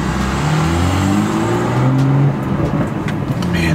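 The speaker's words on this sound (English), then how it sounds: "It's got a really nice throaty sound, and you can hear the turbo a lot better." A BMW F87 M2 accelerating, its throaty exhaust rising and falling in pitch under a whirring turbo, loud and close, with brief hissing bursts in the second half.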